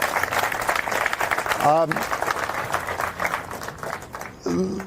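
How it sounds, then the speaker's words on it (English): Applause from a small crowd at a political house party in Las Vegas, Nevada, steady and fairly close for several seconds, with voices and chatter mixed in and a voice rising near the end. "so we can give them a round of applause also, who are here, our great Nevada staff"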